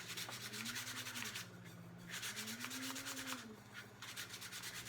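Sandpaper rubbing back and forth over a wooden surface, a steady close scratchy hiss in repeated strokes with a faint hum underneath.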